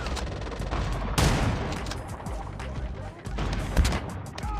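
Rapid bursts of gunfire in the mobile shooter game Call of Duty Mobile, loud sustained automatic volleys with a few sharper blasts, continuous throughout with no pauses.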